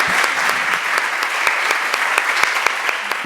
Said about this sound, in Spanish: vamos a recibirla con un aplauso, por favor